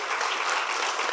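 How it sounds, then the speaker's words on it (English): An audience at a cloud native tech conference's lightning talk session in London claps in a steady, dense wash of applause with no voices on top. "Y'all, clap it up."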